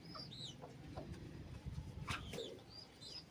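Pet hens cluck and squawk in a backyard setup while being caught for vaccination, with short agitated calls scattered over a low, quiet background.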